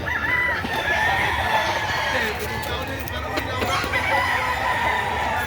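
Chickens cluck and a rooster crows repeatedly at a busy poultry market in Lipa, Batangas, the birds close and lively while people talk and a crowd murmurs in the background.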